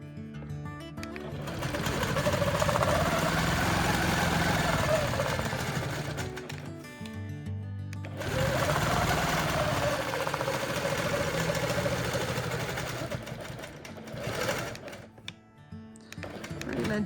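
A long-arm quilting machine stitches a pebble pattern along the seams of a Tula Pink hourglass quilt, its rapid needle chatter humming steadily and close in long runs that pause briefly and resume, with no talking.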